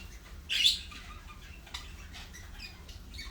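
English budgerigars at a bird farm give a brief loud chirp followed by faint scattered tweets and squawks over a low background rumble.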